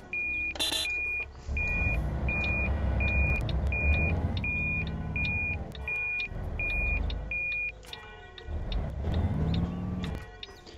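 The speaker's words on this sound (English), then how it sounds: "I love doing that, just put it into neutral and rev it" Bus engine in a bus-driving video game, revved hard in neutral, rising and falling in three or four surges over a steady low rumble, with a repeating electronic beep pattern sounding alongside.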